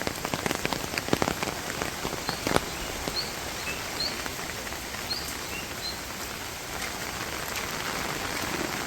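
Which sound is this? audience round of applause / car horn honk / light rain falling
light rain falling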